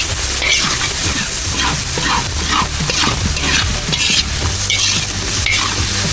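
Garbanzos sauté in a hot pan with a steady loud sizzle and repeated scraping stirs throughout, no speech over it.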